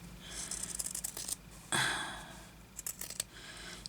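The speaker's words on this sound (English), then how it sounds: "I'll cut a bit more off this without cutting off me good sewing." Scissors cut through fabric from a sewing journal cover in a series of close, rasping snips, with one longer crunchy cut in the middle, then more quick snips.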